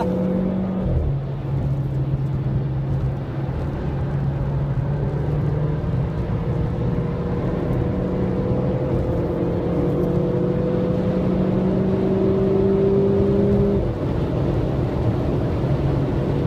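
A Renault Clio 200RS race car laps the Nürburgring Nordschleife, its engine droning steadily from inside with long rising and falling pitch sweeps through gear changes, loud and continuous with no talk.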